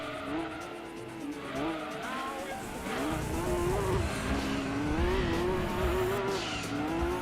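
Race cars overtaking in Gran Turismo 2, a continuous whining engine drone with rising and falling pitch as cars pass, steady and fairly loud throughout.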